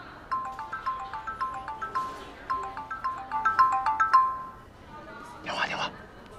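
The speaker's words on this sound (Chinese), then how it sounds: "哥，电话。" A mobile phone rings with a repeating melodic ringtone, loud and close, in bursts that stop before a brief rustle.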